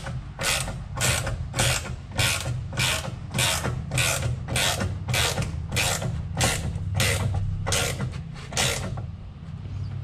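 A subframe bushing on a Honda Pilot or Acura being pressed into its mount, giving a steady run of about fourteen loud, evenly spaced mechanical clicks over a low grinding hum.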